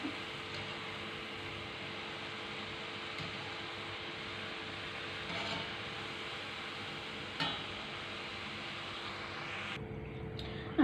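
Steady sizzling of thenkuzhal dough frying in hot oil, a continuous hiss with faint bubbling that thins out near the end.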